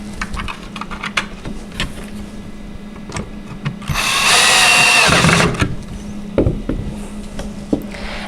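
Screw being driven into the rail of a wooden doll bunk bed, a steady whirring buzz lasting under two seconds amid scattered light knocks and handling taps, close by and fairly loud.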